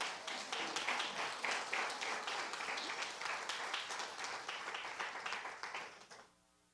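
Congregation applause during a church sermon, a dense steady burst of many hands clapping for about six seconds before cutting off, followed briefly by quiet room tone.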